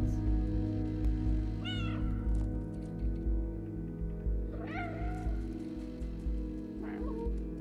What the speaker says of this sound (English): You get one meow.